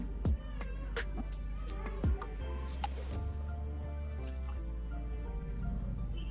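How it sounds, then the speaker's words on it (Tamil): Indian brandy, about 30 ml, is poured into a glass, giving soft trickling and dripping splashes up close over quiet background sounds. "30 ml போர் பண்ணிக்கலாங்க"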